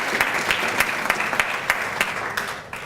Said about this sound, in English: Let's give an applaud for Mrs. Boynton.